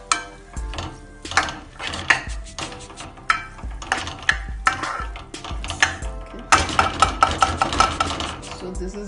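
A utensil stirs brown rice for Schezwan fried rice in a pan, with repeated scraping clanks and metallic taps in an uneven rhythm, close and clear, busier toward the end.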